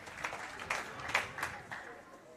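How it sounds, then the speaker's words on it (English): Crowd at an Australia Pararoos versus Thailand men's para football championship match applauds in scattered bursts, distant and moderate, under a commentator's ongoing talk. "by the applause, you can tell exactly what the pro-Australian crowd thought of that"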